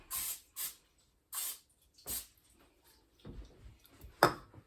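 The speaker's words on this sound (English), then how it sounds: "spray this with a nonstick spray" Several short hissing bursts of a nonstick cooking spray can, close by, with brief pauses between sprays and faint clatter afterward.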